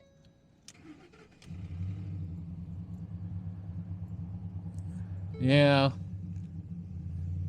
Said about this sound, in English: She's idling rough.